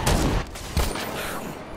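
Rocket launcher fire in the Dead Rising 4 zombie game: two heavy, booming blasts about a second apart, each a loud burst of rumbling noise that fades into a rough, crackling tail.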